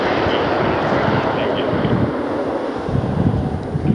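Airliner landing on the runway at Lihue airport, a steady loud roar of engine and wind noise rumbling close throughout, with a voice talking over it at times.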